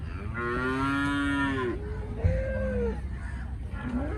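A dairy cow gives a long, loud moo, then a couple of shorter lowing calls nearby against a faint background hum.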